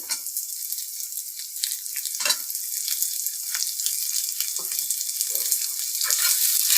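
Chopped tomato fries with browned onions in oil for a fish curry, a bright, steady sizzling hiss with a few soft stirring bumps, no voices.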